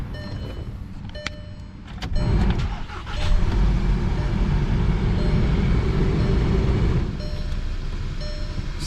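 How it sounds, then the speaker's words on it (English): Volkswagen CC engine cranking and catching around the two-second mark, then settling into a steady, fairly loud idle rumble close by, with a few faint clicks from the cabin early on. "So let's go ahead and start the car."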